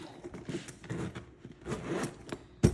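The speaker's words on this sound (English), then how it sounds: "let's zip it up" A bag being zipped shut after sunglasses are laid on top: a run of short rasping zipper pulls in stops and starts, close and fairly quiet, ending in a sharper scrape.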